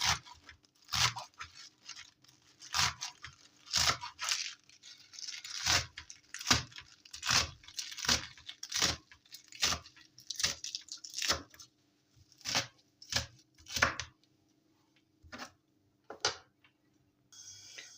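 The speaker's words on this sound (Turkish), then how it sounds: "Ben hepsini bu şekilde doğrayıp hazırlıyorum" Quick, uneven crisp cuts of a knife slicing through spinach on a board, close up, in bursts with short pauses.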